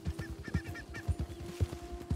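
Wild birds call in the Red Dead Redemption 2 outdoors, a quick run of honking, goose-like cries repeating close together over a low steady hum, with no talking.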